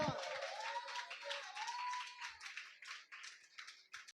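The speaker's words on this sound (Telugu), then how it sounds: "చప్పట్లు కొట్టి ప్రభు నామాన్ని కనపడదాం" A church congregation claps together during a Sunday service in a dense, continuous burst of rhythmic hand claps, with voices speaking over it.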